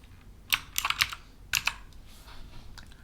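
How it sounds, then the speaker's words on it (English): Keystrokes on a computer keyboard, several quick clustered taps in two short bursts with a pause between, close and clear in a quiet room with no talking. "Let's check out the log now by typing into the input"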